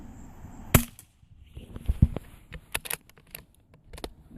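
Quiet .22 CCI CB cap rounds are fired outdoors, a sharp crack followed by several more soft pops spaced irregularly, fairly faint overall.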